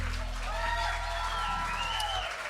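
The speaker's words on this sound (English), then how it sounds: "One more round of applause." Audience applause at a live music show on a campus venue, steady clapping mixed with cheering under lingering musical tones and a low hum.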